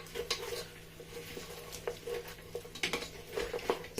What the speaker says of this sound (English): So I'm just going to mix everything together.